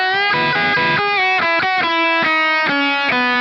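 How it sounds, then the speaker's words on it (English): A GTRS electric guitar with onboard amp and pedal modeling on a lead setting, with no amp: a quick run of singing, sustained single notes and bends, bright and loud, with a steady flow of distinct picked notes. "And then here's kind of a lead one."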